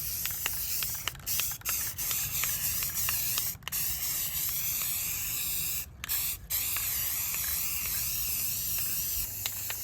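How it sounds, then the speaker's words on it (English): A spray gun applying clear coat hisses steadily and loudly, with a few brief pauses where the trigger is released; no voices. "All right, we're now clear coating."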